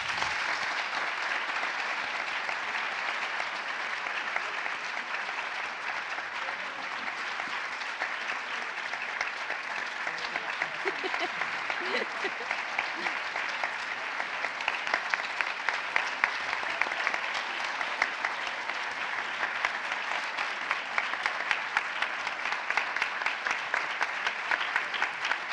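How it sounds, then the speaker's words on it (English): Sustained audience applause closing an English National Ballet performance of Akram Khan's Giselle, a dense, steady wash of clapping from a large crowd that holds for the whole stretch and swells slightly near the end. "let's have a final round of applause"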